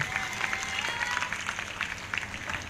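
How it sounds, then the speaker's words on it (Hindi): A church congregation at a prophetic ministry service claps together in praise to God, a steady patter of many hands heard at moderate distance over a faint room background, with no speech over it. "ताली बजाकर महिमा दे परमेश्वर को।"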